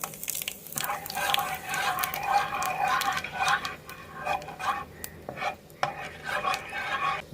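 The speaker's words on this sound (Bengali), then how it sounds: "জিরেগুলো দিয়ে 10-15 সেকেন্ড নাড়াচাড়া করে নেওয়ার পর" Whole cumin seeds and two bay leaves stirred in oil left over from frying katla fish, with repeated scraping and tapping of a spatula against the pan over a soft sizzle, close and steady.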